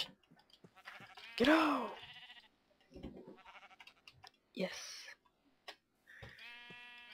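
Sheep in the Minecraft video game bleat several times, loud and close, with short clicking game sounds between and a person briefly speaking.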